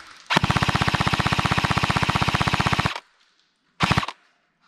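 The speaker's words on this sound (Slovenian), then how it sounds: "da ne bi držal polni rafal" An airsoft gun fires a full-auto burst during a field game: a rapid, evenly spaced string of about forty close, loud shots lasting over two seconds, then a pause and a second short burst.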